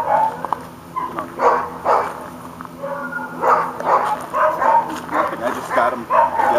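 Dogs being evaluated for aggression bark and yip repeatedly in close, irregular bursts, with some whimpering between the louder barks.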